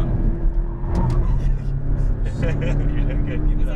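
A Porsche on a racetrack driving course pulls hard at full throttle, its engine and road rumble loud and close inside the cabin, with a voice talking over it.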